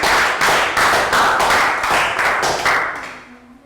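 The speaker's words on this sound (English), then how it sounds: "Round of applause for Bangpon." A Year 3 science class claps in unison for a pupil, a near, loud run of rhythmic group claps that fades at the end.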